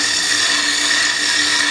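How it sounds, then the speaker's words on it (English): A gouge shears wood on a spinning lathe, giving a loud, steady, close hiss of cutting with the motor's hum underneath and no voices. "I'm using this side of the gouge, and when I come back this way, I use the other side. Shavings come off the side."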